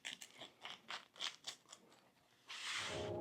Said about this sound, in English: I'm going to go ahead and give it a cut.